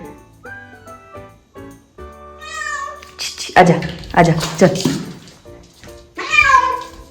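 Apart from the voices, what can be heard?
cat meowing indoors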